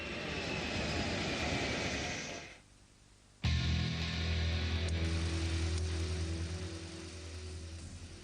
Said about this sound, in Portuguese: do rebento da Guerra Fria de Kelly Johnson, o avião espião U-2.